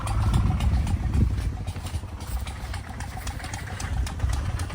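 A motorcycle engine idles nearby with a low, uneven rumble and light clattering, holding steady throughout without revving.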